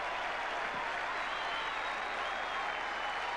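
A large cricket crowd applauds and cheers after a batsman's pull shot, with Pakistan batting at 2 for 347: a dense, steady roar of clapping that carries on loud and unbroken throughout.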